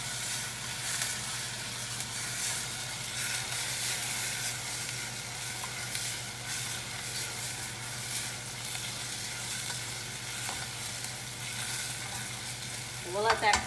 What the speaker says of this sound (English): Okay, so it looks like my onions are sauteed very well.